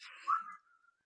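A person whistles one short, clear tone that bends and then trails off softly, close by and alone against silence.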